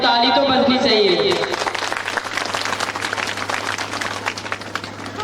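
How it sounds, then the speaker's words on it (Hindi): An audience at a school annual day bursts into sustained clapping that rises just as a man's speech ends, and the dense applause carries on to the close. "इन लाइनों के लिए एक बार ताली तो बजनी चाहिए"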